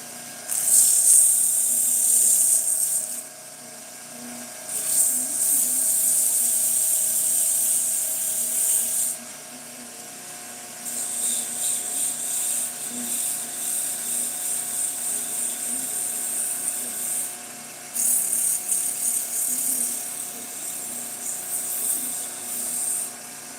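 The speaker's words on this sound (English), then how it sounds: "But man, I might not even sand this. Maybe a little bit. I'll do a little bit." A wood-turned top being sanded on a spinning lathe: a steady high hiss of abrasive rising and falling in several long passes, with a constant motor hum under it and no talk.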